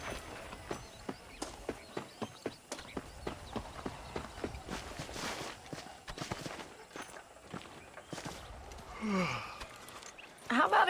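Horse hooves clip-clopping at a steady trot while riding across the frontier in Red Dead Redemption, a clear rhythmic series of close hoofbeats that loosens into scattered steps, with a brief voice near the end.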